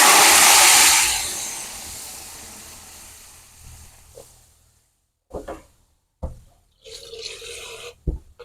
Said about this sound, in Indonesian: Nah kita tambahkan minyak. Nah tak tumis bumbu ya.